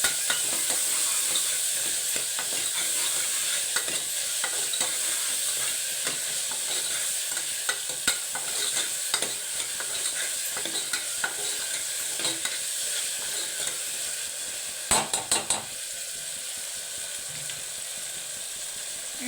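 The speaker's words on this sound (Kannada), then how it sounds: "ನಾನು ಇವಾಗ ಟೊಮೊಟೊ ಹಾಕಿ ಫ್ರೈ ಮಾಡ್ಕೊಳ್ತೇನೆ" Tomatoes frying in a pan while being stirred, a steady close hiss of sizzling oil with frequent scraping stirs and a few sharper clinks near the end, no talking.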